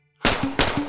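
Two sharp, loud semi-auto gunshots from a firearm in the VR game H3VR, following a brief quiet start, each with a short ringing decay.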